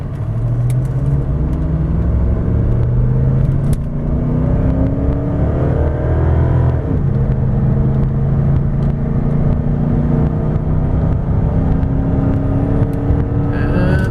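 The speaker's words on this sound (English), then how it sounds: "So accelerating hard up this incline is really putting the engine and transmission through its paces." A 2001 Cadillac DeVille pulls hard up an incline, its engine note climbing through rising sweeps as the transmission shifts, loud and close from inside the car with steady road noise beneath, no talk.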